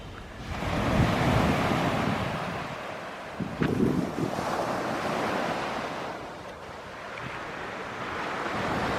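Waves roll onto Lanai Beach in Thailand with a steady, loud surf roar and wind buffeting the microphone, swelling and easing over several seconds.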